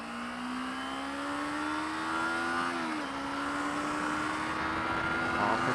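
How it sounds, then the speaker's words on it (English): Kawasaki Ninja 250R motorcycle engine running at steady high revs with a brief dip and recovery in pitch during an upshift, a continuous buzzing drone heard alone. "Off the throttle, clutch in, shift up, throttle on again."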